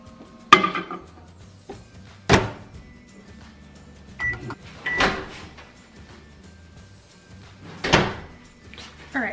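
A microwave oven gets worked while butter melts inside: a door thumps open and shut, buttons click and beep, and a few more sharp knocks and clunks follow, close by with quiet pauses between them.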